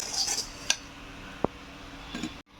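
Metal utensils clink sharply a few times against a dish, with soft scraping and handling noises in between in a quiet kitchen.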